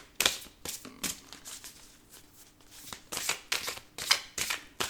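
Tarot cards shuffled by hand in repeated bursts, each a crisp riffling flutter close by, separated by short quiet pauses, with no talking.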